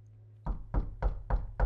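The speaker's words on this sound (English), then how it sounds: "Then the knock came again." Five firm knocks on a door land in an even, unhurried rhythm, close and solid, with a low steady hum underneath.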